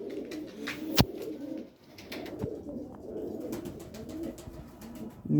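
Breeding pigeons coo softly in a loose, repeating rhythm at close range, with wing flutters, light taps and a sharp knock near the start, and no talking.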